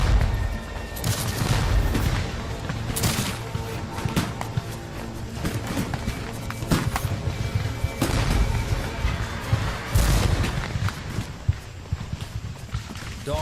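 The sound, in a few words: Union musket volley gunfire, Civil War battle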